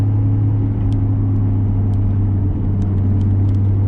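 A Nissan R33 with a built RB25DET engine cruises along a backstreet, heard from inside as a steady, loud low drone and rumble with light ticks over the top, unchanging throughout.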